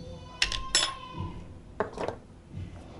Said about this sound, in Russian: Сейчас все ложкой вытряхну.